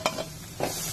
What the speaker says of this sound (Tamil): இஞ்சி பச்சை மிளகாய் நல்லா வதக்கிக்கோங்க